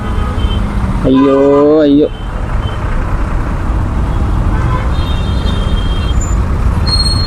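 A lorry in busy Chennai road traffic, with a loud, sustained horn blast of about a second over a constant rumble of engines and passing vehicles; a voice briefly exclaims.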